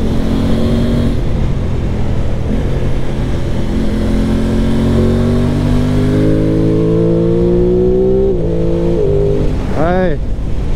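A new Aprilia Tuono 660 Factory motorcycle engine pulls steadily through its gears with rising tones, heard up close with heavy wind noise. The engine note climbs briefly near the end.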